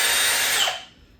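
A Milwaukee Fuel 3697-22 hammer drill runs at its first speed setting, capped at 500 RPM, with a loud close whirring motor that quickly winds down.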